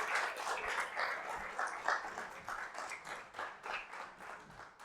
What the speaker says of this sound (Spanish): Y la iglesia, un aplauso,